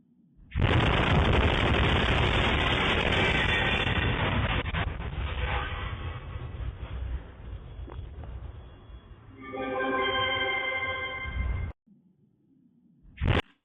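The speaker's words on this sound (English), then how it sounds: "you're going to see a major strike right here on one of these buildings as one of these Iskander ballistic missiles were incoming to Kyiv" An Iskander ballistic missile strike on buildings in Kyiv comes through as a loud, sustained roar of blasts and crackling that fades after several seconds and then surges again, ending in a brief final burst.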